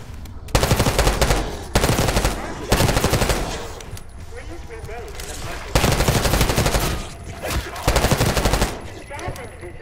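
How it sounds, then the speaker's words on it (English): Automatic gunfire from Call of Duty Black Ops 6 rips out in loud, close bursts of rapid shots, five separate volleys broken by brief quieter gaps with faint voices and background game sounds between them. "You getting gunfire? Yeah. Sounds like it's coming from one of the lower floors."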